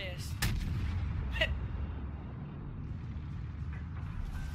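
Naval cannons fire in World of Warships, two or three sharp booming shots early on over a low, steady rumble of engine and sea noise, fairly loud, with faint voices in the background.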